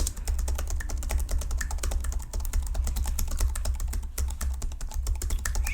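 Fast, steady typing on a computer keyboard, close and softly clicking in a continuous stream of keystrokes for a wedding planner roleplay, with no voice over it.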